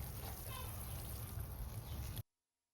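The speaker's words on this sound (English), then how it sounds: "And then I water it again." Water poured over garden soil freshly forked with compost in a cucumber bed, a steady close splashing trickle lasting about two seconds and then stopping abruptly.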